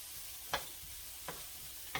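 Frozen vegetables fry in a pan with a steady, soft sizzling hiss throughout, broken by three brief scraping clicks of stirring, fairly quiet and with no voices.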